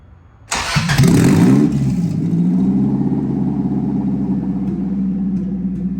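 A Toyota 3SGE engine swapped into a BMW E30, running on the stock Toyota ECU, cranks and fires loudly, flares briefly, then drops into a steady, even idle close to the microphone.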